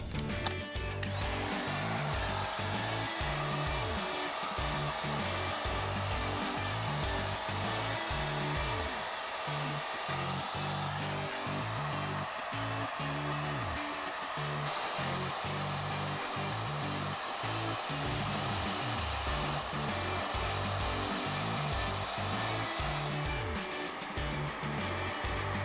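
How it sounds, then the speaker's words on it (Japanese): A hair dryer blows continuously while short hair is dried, a dense steady roar that stays loud from start to finish, its tone shifting slightly as the airflow is moved around the head. "それじゃあ実際に乾かしていきたいと思います。"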